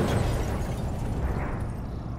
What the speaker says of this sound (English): the explosion is not that big enough to explode the bus, but it is enough to capsize it